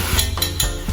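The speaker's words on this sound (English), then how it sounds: "At this point, I'm just gonna add my pork and my onions." Pork and onions hit a hot pan over high heat for a long squash stir fry, a short close burst of sizzling with metal utensil clinks and scraping against the pan.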